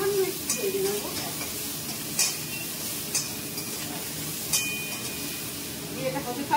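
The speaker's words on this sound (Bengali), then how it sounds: "ফোড়নটা হয়ে গেছে, আমি এবার সব টমেটোগুলো দিয়ে দিচ্ছি।" Chopped tomatoes frying in hot oil with tempered spices in a pan, a steady soft sizzle with occasional metal clinks of a spoon against the pan.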